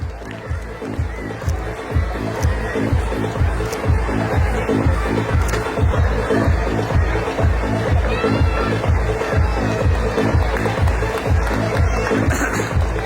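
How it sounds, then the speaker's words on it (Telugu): Audience applause at an annual day celebration, a loud, sustained wash of crowd noise over a steady, pulsing rhythmic beat that runs throughout. "So I want a huge round of applause."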